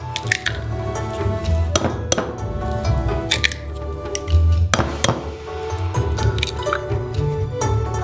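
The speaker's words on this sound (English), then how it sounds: "Break 3 eggs into a bowl." Three eggs cracked into a bowl, sharp shell taps and wet splats spaced out over several seconds, close and fairly loud against a busy kitchen background with no speech.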